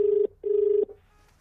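A telephone rings in a scene from a Hindi-dubbed South Indian film: two steady electronic tones with a short gap between them, loud and close, then quiet.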